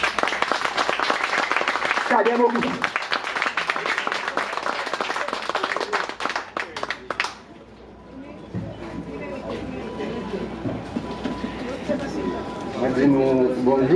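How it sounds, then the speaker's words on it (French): An audience claps at a ceremony honoring an exceptional person, a cadet, during a world day celebration. Scattered clapping comes first, with a voice over and around it. The applause stops abruptly, speech continues, then a brief stir rises at the end. "Je vous invite à applaudir."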